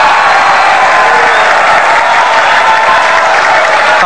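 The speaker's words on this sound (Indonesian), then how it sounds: "Kita berikan tepuk tangan" A large crowd at a televised presidential debate applauds loudly and steadily, the dense clapping holding an even level throughout.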